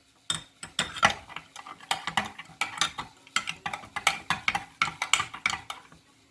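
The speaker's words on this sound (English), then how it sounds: "we're going to stir this up now, mix it up" A utensil stirs and mixes fajita-seasoned food in a pan, making rhythmic scraping clatters in quick repeated strokes, close and clear with no talking.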